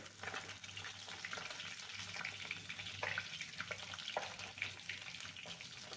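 Small charapona fish frying in hot oil, a soft continuous crackling sizzle with occasional sharper pops, faint and steady, no voices.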